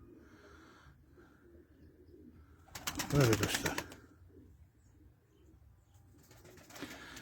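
Turkish tumbler pigeons coo and wings flap in a brief flurry, with someone speaking quietly nearby and soft background noise.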